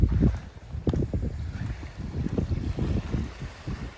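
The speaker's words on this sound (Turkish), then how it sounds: "Rüzgar biraz çıktı. Akşama doğru dinecek rüzgar." Gusty wind buffets the microphone in uneven bursts, rumbling low and close, with no voices present.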